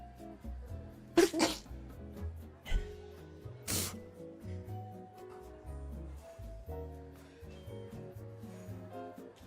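A single sudden sneeze bursts out near the start, and a second sharp one follows a few seconds later, both sounding over soft, steady background music in a cozy café-style setting.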